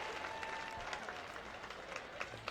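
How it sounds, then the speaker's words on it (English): Audience applause for the 2018 Fall Homecoming Queen at a Sikeston High School football game, a steady, fairly distant wash of many clapping hands with a faint crowd murmur, sustained evenly throughout. "Please give a round of applause for your 2018 Fall Homecoming Queen"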